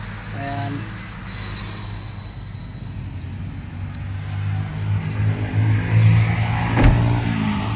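Suzuki Spacia kei car with an R06 engine running nearby, a steady low engine hum that swells slightly toward the end, with a passing vehicle noise in the background.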